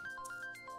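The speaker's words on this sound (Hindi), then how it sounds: "यार बॉस का फोन आ रहा है यार" A phone ringtone plays as a call from the boss comes in, a short electronic melody of bright alternating tones heard clearly and alone for under a second.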